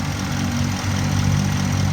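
A 2011 Ford F-350 XL utility truck with a 6.2 liter V8 idles smoothly and steadily, a low, even rumble close by with no talking.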